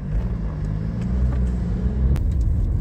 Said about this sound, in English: Have to wait for the school bus to release us